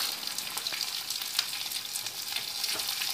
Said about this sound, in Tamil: பூண்டு போட்டு நசுக்கின பூண்டு போட்டு நல்லா வறுத்துக்கோங்க